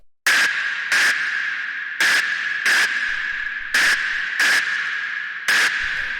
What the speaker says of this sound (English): And the first sound we have here is this little distortion noise